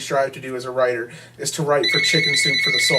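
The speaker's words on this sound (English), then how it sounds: "and that's my phone" A telephone rings with a steady electronic tone under a person's ongoing talk, starting partway through and continuing to the end.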